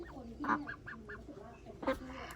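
Large egg-laying ducks on a farm give a quick run of nasal, honking quacks, several short calls in a row, fairly close and moderately loud.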